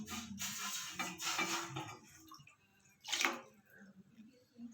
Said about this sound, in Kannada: ಇವಾಗ ಇದರಲ್ಲಿ 1 ಲೋಟ ನೀರು ಹಾಕ್ತಾ ಇದ್ದೀನಿ.